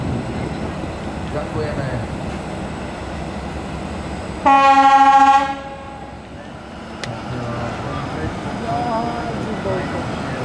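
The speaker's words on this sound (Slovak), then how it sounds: "Takže ešte nám veľmi spoľahlivá mašinka T2108." A T2108 railway locomotive sounds a loud, chord-like horn blast lasting about a second near the middle, over a steady rumble of rail machinery, with people talking before and after at a railway day event in Humenné.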